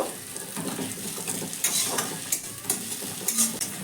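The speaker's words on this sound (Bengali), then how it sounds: "ভালো করে মিশিয়ে এক থেকে দেড় মিনিট মতো পেঁয়াজের সঙ্গে একটু ভেজে নেব" A spiced potato mix fried with onion, chili and salt in a pan, a soft, low sizzle beneath irregular scraping and clinking stirs of a utensil against the metal, close and fairly quiet.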